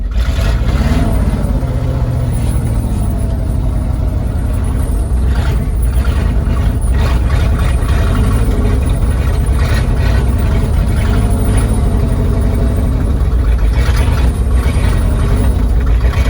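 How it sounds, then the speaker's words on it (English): A car drives through snow on tire chains, its engine droning loud and close throughout, with a continuous rattling clatter from the chains and no talking. "Dashing through the snow with the tire chains clanging"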